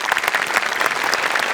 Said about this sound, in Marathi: क्या बात, जोरदार टाळ्या.